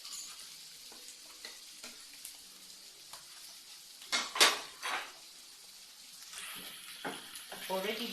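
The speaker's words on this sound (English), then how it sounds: "Now I'm adding the tomatoes." Soft sizzling of tomatoes frying in a pan for an egg and plantain frittata, with a few clanks of a utensil against cookware, quiet overall with a louder stir in the middle.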